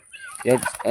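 Several chickens feeding on larvae let out loud, close, throaty clucks in quick bursts, busy and layered over one another with no talk.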